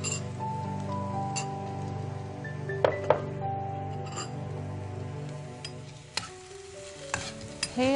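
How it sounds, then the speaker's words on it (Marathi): Grated paneer is sautéed in ghee, giving a soft sizzle with intermittent stirring clinks and scrapes against the pan, fairly quiet and with no talking. "हे आपल्याला परतून घ्यायचंय तुपामध्ये।"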